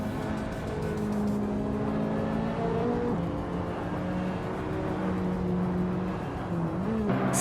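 Race cars overtaking in a racing video game, a steady loud drone of several engines whining and shifting pitch together, with cars close by throughout and no voices.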